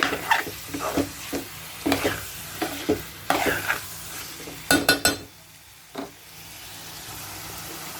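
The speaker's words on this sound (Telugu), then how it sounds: "టమాటా కూడా బాగా మగ్గించుకోవాలి." Tomatoes fry for a chicken curry as a spoon stirs them in the pan, with repeated scraping strokes over a continuous sizzle, several quick clinks near the end, then the sizzle carrying on alone.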